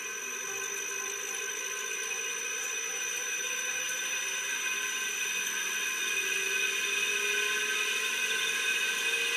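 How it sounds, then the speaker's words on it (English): A 2 hp three-phase air compressor motor, driven by a VFD, runs at speed with a steady high whine and whir that climbs slightly in pitch and stays loud and continuous throughout. "the VFD slowly ramps the motor up to full RPM"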